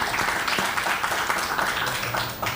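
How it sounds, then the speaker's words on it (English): A conference audience at a mobile games awards judges panel applauds, a dense, steady wash of clapping from many hands that holds at even volume throughout. "please give them a warm applause for their hard work"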